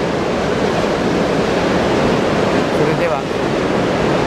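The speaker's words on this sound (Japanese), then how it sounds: "海の様子は昨日よりも増して波が荒くなっているようですね" Rough winter sea waves on Higashihama beach roar as a loud, continuous wash of surf close by, steady throughout, with a brief word of speech near the end.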